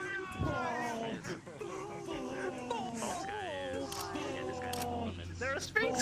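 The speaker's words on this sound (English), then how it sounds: "They're a Sphinx cat!" Meowing from a Sphynx cat in a VR game: drawn-out, wavering cat cries that rise and bend in pitch, mixed with voices and a few clicks, close and fairly loud throughout.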